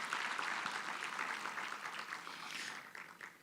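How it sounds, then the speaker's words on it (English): An audience at a conference event claps in a round of applause, a dense patter of hands that is fairly quiet overall and eases off toward the end. "So let's give NSFAS a good round of applause"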